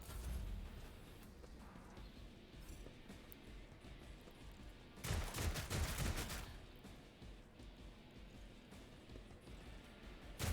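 Gunfire in the video game Rogue Trader, a sudden loud volley of rapid shots lasting about a second and a half amid quieter game ambience.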